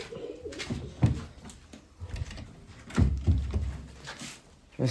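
Pigeons coo softly and repeatedly nearby, low rounded calls rising and falling over faint background rustling.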